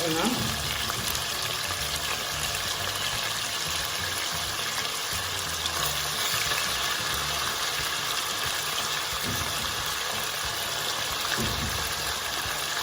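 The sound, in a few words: pork frying with pineapple, sizzling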